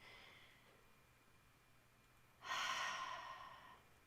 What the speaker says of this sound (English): Take your breath in.